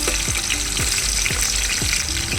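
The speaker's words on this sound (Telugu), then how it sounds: "ఈ ఆనియన్స్ గోల్డెన్ బ్రౌన్ కలర్ వరకు ఫ్రై అయిపోవాలి" Chopped medium onions fry in a pan of hot oil with spices, a steady close sizzle and crackle running throughout with a few soft stirring scrapes, no voices.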